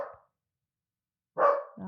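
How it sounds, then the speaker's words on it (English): A dog barks close by, one short bark at the start, then silence, then a louder sharp bark followed by a quick yip. "That's like someone's at the door bark."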